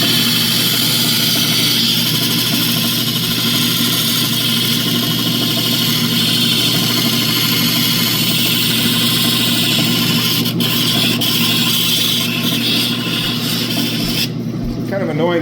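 A lapidary belt polishing machine pre-polishes an opal, giving a continuous loud whir and rasp with a steady motor hum under it, close and unbroken, that tails off near the end.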